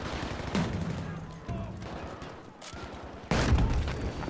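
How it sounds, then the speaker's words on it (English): Grenade launcher fire in the shooter game Battlefield 2042, heard as several heavy booming blasts and dense gunfire, the loudest burst near the end, with no clear talk. "Grenade launchers."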